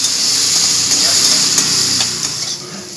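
Potatoes frying in a pan with turmeric and salt, a loud continuous sizzle with stirring scrapes, while a voice speaks faintly underneath.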